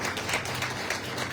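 Audience clapping in a brief burst, a dense, fairly loud wash of many hands applauding together without a break.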